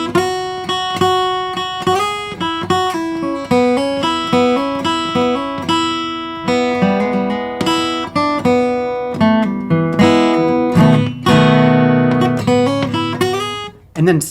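A blues instrumental played on electric guitar: a repeated lead phrase with variation, picked notes and bends in a steady rhythmic pattern, clear and close with no talking.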